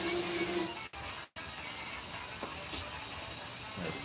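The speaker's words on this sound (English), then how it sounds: "Spray some into the intake here." A loud hiss of aerosol spray into a 125cc scooter's engine intake for under a second, cutting off abruptly, followed by quiet shuffling and a faint metallic clank.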